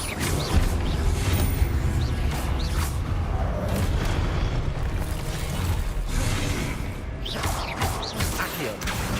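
Incendio fire spell cast over and over in the video game Hogwarts Legacy, a dense run of loud fiery bursts, crackles and impacts layered with game effects through the whole stretch.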